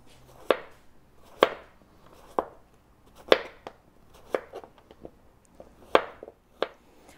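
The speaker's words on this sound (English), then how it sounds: "you can just go ahead and cut it with a knife into nice even slices" Knife chopping through squash on a cutting board in a home kitchen, a steady series of crisp, close board-hitting cuts spaced about a second apart, with no voices.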